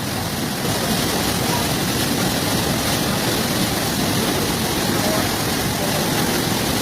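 Strong floodwater current rushing through a breach, a loud, continuous broadband roar of water close by, steady without a break, with a voice talking faintly under it.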